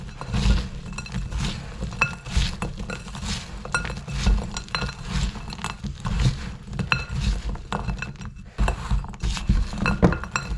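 A spoon clinks and scrapes against a glass bowl while frozen mixed berries are stirred with vanilla to coat them, giving a busy, steady rattle of hard little fruits knocking together, close and alone.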